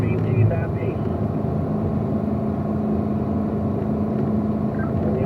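A Corvette on a race track drones steadily as its engine holds a constant rumble under the throttle, with someone talking over it throughout.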